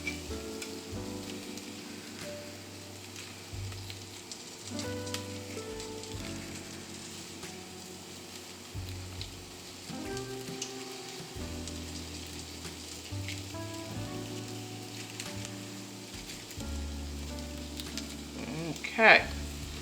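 Bacon frying in a pan with French-cut green beans, a faint, steady sizzle with light stirring and scraping, and one louder clink near the end.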